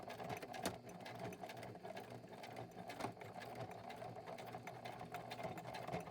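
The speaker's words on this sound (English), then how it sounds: "And this is a heavy-duty quilting machine." A heavy-duty quilting sewing machine fitted with a size 14 needle runs steadily at a slow pace, stitching through thick, heavy material. The motor hums loud and close throughout, with no talk over it.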